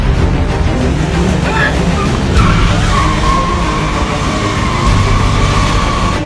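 Car shoved sideways by a strongman, its tires squealing and skidding in a long loud screech over constant engine and road rumble.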